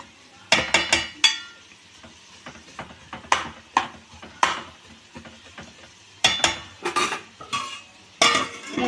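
A utensil scrapes and clinks against a pan as ivy gourd chutney with turmeric is stirred, in irregular bursts of metallic knocks over a faint background.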